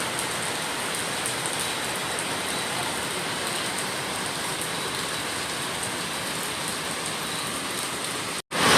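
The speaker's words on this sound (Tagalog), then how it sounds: "Bumuhos na naman ang ulan, guys, na malakas." Heavy rain pours down in a dense, steady hiss, loud and unbroken, cut off briefly near the end.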